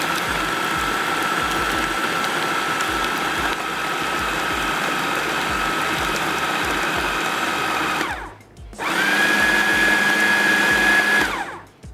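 A blender grinds cumin with crushed red chilli in a loud, steady whirr that runs for about eight seconds, stops briefly, then starts again for another burst with a rising whine.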